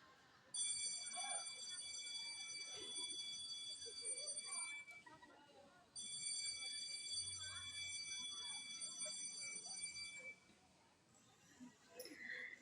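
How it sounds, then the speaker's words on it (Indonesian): An electronic school break bell rings in two long sustained bursts with a brief gap between them, a bright steady tone heard over murmuring student voices and background chatter. "Hingga akhirnya bel istirahat berbunyi."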